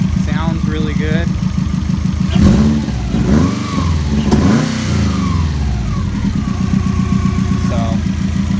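A Subaru engine fitted in a VW Karmann Ghia runs close by, idling then revving up and settling in repeated swells, loud and throaty, with a person talking over it at points.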